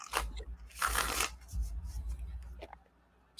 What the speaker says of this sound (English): Still getting used to my mic and seeing if I move my cards away that the shuffling isn't too loud